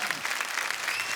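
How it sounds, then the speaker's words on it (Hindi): A studio audience at a comedy show bursts into dense, even applause, a brief loud wash of many hands clapping at once with no break. "प्लीज एक बार अर्चना जी के लिए जोरदार तालियां"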